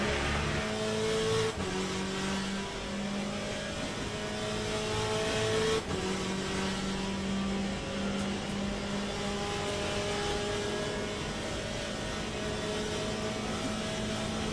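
A GTE race car in a racing game drones at high revs, with its engine note dipping sharply at a couple of gear shifts before climbing again in a steady, loud, continuous roar.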